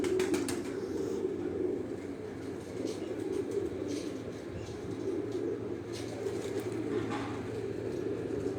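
Pigeons coo steadily on a rooftop loft with breeding pens, a low rolling murmur of several birds heard close and continuous, marked by faint light clicks and flutters here and there.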